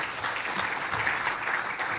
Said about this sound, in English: Can we have another round of applause for our awesome panel?